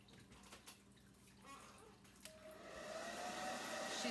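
A heat tool blows hot air onto shimmer copper craft paint, a soft rushing hiss that builds and grows louder toward the end, with faint handling sounds before it.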